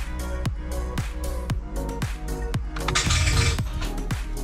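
Ford Mustang engine failing to start, a steady rhythmic cranking with a regular beat about twice per second, close and continuous, without catching.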